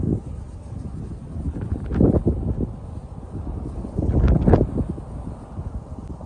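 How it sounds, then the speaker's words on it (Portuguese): Strong wind outdoors while flying a kite, gusty rumbling buffeting against the microphone that swells and fades in two stronger bursts. "o vento tá forte"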